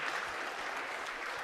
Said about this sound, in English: I just want to extend another round of applause for Dr. Blakey.